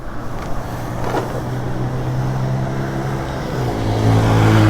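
A Suzuki Raider motorcycle engine idling nearby with a steady low drone, then swelling louder toward the end as it revs.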